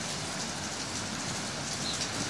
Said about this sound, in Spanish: Ya tiene 3 días lloviendo, miren cómo se pone.